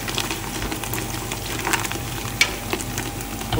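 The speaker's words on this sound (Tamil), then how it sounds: "வெங்காயம்லாம் நல்லா இந்த அளவுக்கு வதங்குற அளவுக்கு விட்டால் தான் பிரியாணி டேஸ்ட் நல்லா இனி வரும்" Onions frying in a pan for chicken biryani, a steady soft sizzle with occasional stirring clicks and scrapes, close and fairly quiet, with no talk.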